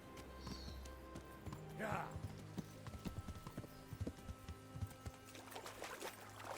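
Horse hooves clip-clop at a steady walking rhythm in the medieval game Kingdom Come Deliverance, fairly close, with soft ambient game sounds around and someone talking over it.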